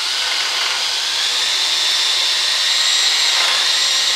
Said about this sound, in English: You also try and keep your drill vertical.